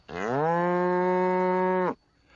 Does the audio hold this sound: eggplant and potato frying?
no